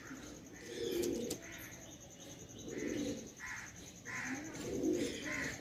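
Pigeons coo in soft, repeated rounded calls, roughly one every second or two, close by and fairly quiet against a faint background hum.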